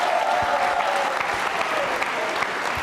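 Loud, sustained applause from a crowd at a school quiz show, clapping densely for a few seconds with a faint tone underneath.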